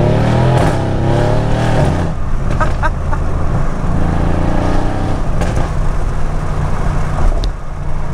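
A Mercedes C63 AMG engine revs loud and close at first, its pitch climbing, then settles into a deep steady rumble that carries on alone without speech.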